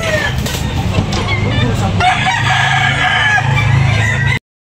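A rooster crows loudly and close by, a long drawn-out call over a noisy background with faint clucking, at a chicken market in Tabunok, Talisay.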